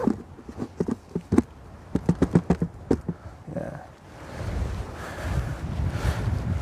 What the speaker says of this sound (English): Wind's coming from that direction.